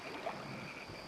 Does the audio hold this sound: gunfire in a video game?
no